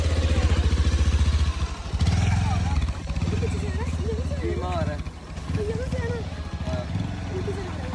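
A motorcycle engine runs steadily throughout with a low, pulsing drone and occasional revving, close by and loud, while people talk over it.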